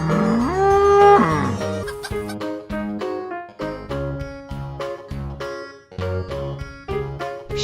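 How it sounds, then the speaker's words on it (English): A bull gives one long, loud, drawn-out moo near the start, and bouncy background music continues for the rest of the clip. "Bull."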